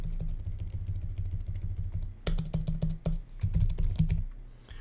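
Someone types a username and password on a computer keyboard, a steady run of close key clicks with a brief pause, over a low background rumble.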